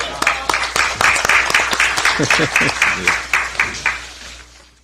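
A burst of applause at a Korean political party leadership meeting welcoming the party leader back, with steady rhythmic clapping from a room of people and a voice talking over it.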